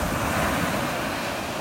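Ocean surf rolling in against the shore, a steady broadband wash of breaking waves with some wind rumble, continuous and fairly close, no voices.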